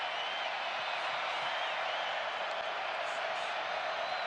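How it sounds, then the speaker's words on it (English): Energetic home crowd at a night college football game between Iowa State and BYU, a steady, dense roar of cheering voices filling the whole stretch without pause. "It's a good, energetic crowd tonight, trying to help their team"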